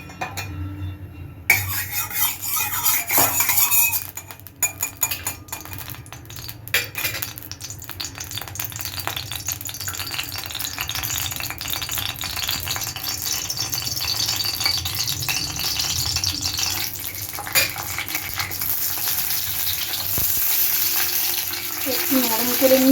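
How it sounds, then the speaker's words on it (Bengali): Capsicum frying in oil in a pan for an egg-capsicum curry, a steady close sizzle with rattling stirring and utensil clatter throughout. "আমি একটু তেল দিলাম, দিয়ে আমি ক্যাপসিকামটা না একটু জাস্ট একটু ভেজে নেব, নরম করে নেব"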